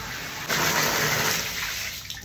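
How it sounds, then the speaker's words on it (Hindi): Water gushes from a tap into a bucket at home, a loud rushing flow that swells suddenly and then holds as a steady roar, with no talking. "चलो बाल्टी भर गई"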